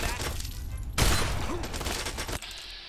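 Gunfire in Fallout 3, a loud burst of shots that opens abruptly about a second in and rattles on dense and close for over a second before cutting off, over a low game background rumble.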